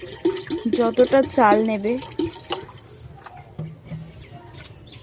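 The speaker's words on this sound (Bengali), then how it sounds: "পরিমাণ মতন জল দিয়ে দিতে হবে" Water is poured into a clay pot for cooking rice, making a splashing stream under a person speaking, then thinning to a faint trickle.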